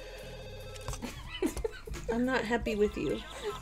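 A telephone rings in The Sims 2, a repeating electronic ring under animated talk, with a voice speaking over it.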